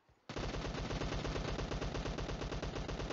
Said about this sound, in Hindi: पूरा मुझ पर फायर दे रहा है